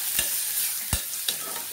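Spice masala of red chilli and coriander powder is stirred and fried in a pan with potato and brinjal, giving a soft continuous sizzle broken by three sharp spoon scrapes.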